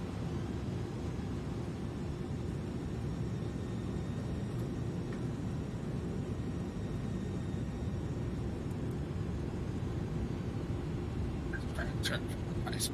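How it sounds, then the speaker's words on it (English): Airliner thrust reversers deploying on landing in Microsoft Flight Simulator 2020 on a UPS cargo flight: a loud, steady, broadband roar fills the whole stretch without letting up, with a few brief faint clicks near the end. "And we're going to use the reversers this time"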